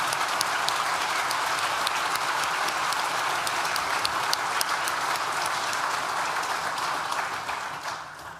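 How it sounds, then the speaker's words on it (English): Sustained audience applause in a hall at a university graduation ceremony, dense crisp clapping holding steady before tapering off near the end, with no talk over it. "Please join me in thanking them with a well-deserved round of applause."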